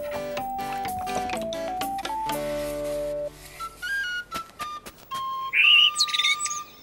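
Cartoon bird chirps and tweets in a bright series of short calls, with a faster burst of high chirping near the end, set against whistly tones and light ticking sounds in an animated scene.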